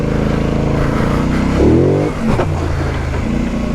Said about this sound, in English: I'm going to jump down this just by giving it a little bit of throttle, and it's going to land smoothly.